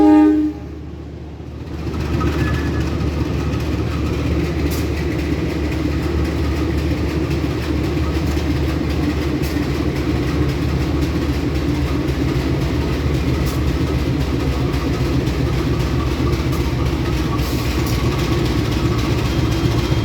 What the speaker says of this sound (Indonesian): kita lihat proses penyambungan lokomotif KA lokal Walahar.